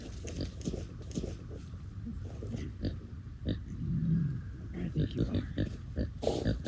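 Kunekune pigs grunt in short, repeated bursts at close range while being moved into a new area behind electric netting on a farm, with a person talking softly over them.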